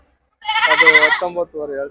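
A goat bleats loudly at the Chitradurga goat market, one long wavering cry followed by two shorter bleats close to the listener, with people talking nearby.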